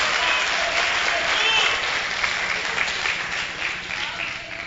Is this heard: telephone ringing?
no